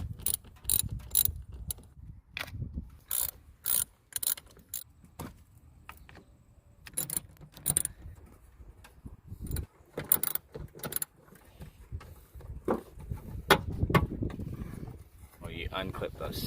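A ratchet wrench loosens the 10 mm battery post bolt on a 2015-18 Subaru WRX, with quick clicking bursts in uneven runs and someone talking between them.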